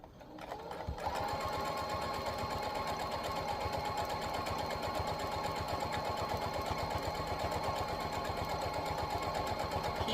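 A sewing machine runs a continuous straight stitch through fabric for a small key fob. After a brief start the fast, even mechanical rattle holds steady, close and loud, with no voices.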